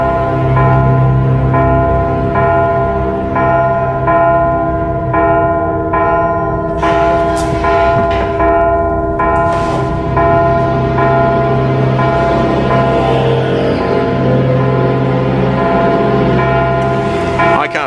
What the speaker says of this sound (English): You've got to stop the bells from ringing.